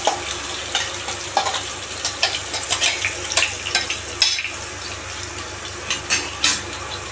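Blended apple paste sizzles in hot ghee for an apple halwa, a constant hiss broken by bursts of spitting and crackling as the paste is stirred, close and fairly loud.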